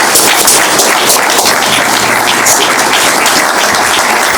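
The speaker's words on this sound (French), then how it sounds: "On peut continuer à applaudir son Excellence" An audience claps steadily and densely for the ambassador at a Democratic Republic of Congo embassy Genocost commemoration. The applause is loud, close and even throughout, with no speech over it.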